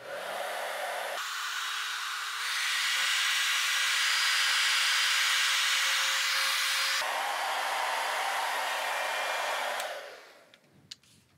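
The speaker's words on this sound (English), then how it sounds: "Now I'm going to have this hair dryer, and I'm going to blow dry" A hair dryer blows steadily on coated paper, a loud close whooshing roar that changes pitch and speed settings twice before switching off and winding down near the end.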